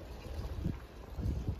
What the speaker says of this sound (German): Also es ist schon ordentlich windig.